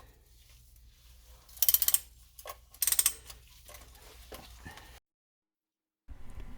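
Ratchet clicking in two short bursts while loosening the half-inch corner bolts of a 1977 Corvette C3 oil pan, close and fairly quiet, followed by a brief silence.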